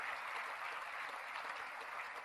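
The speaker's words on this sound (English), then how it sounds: "why don't each one of you give to yourself a big, loud clap" A large crowd of graduates claps steadily at the NMIMS 2018 university convocation ceremony, a dense, even wash of applause that holds for a couple of seconds at fairly low volume.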